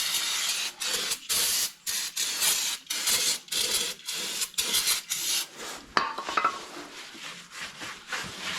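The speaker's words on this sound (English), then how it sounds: "A little bit of brake clean." Brake cleaner sprayed onto a Ford F-250 front brake rotor coated in WD-40, heard as a series of sharp aerosol hisses in short repeated bursts, close and loud, with rubbing and wiping sounds toward the end.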